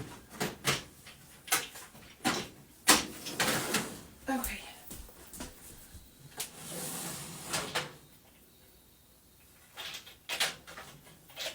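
A drawer of blue items is pulled open and rummaged through, with repeated clattering knocks and scrapes of contents being shifted nearby, and a person speaks briefly between the handling noises.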